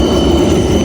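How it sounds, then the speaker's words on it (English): A tram rolling along a street in Helsinki, a steady close rumble of wheels on rail with a faint metallic whine, continuous through the short moment. "look at the tram right there"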